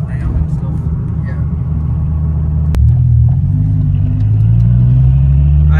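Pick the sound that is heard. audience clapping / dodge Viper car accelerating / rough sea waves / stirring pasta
dodge Viper car accelerating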